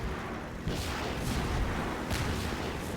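Gunfire in the first-person shooter Half-Life 2, a few heavy booming shots spaced about a second apart over a constant loud rumbling din.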